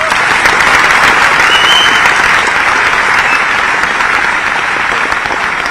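Loud, sustained audience applause at a sports award ceremony in Bhopal, with a large crowd clapping densely and evenly throughout.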